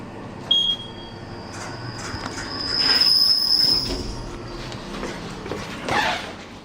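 Hospital lift doors at St Bartholomew's Hospital squealing open, a high, sustained metallic screech with clunks and rumble, loud and close, much like train wheels on rails.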